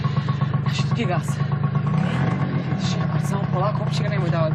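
Close, steady idle of a motorcycle engine, a constant low rumble beneath a conversation carried on over the top.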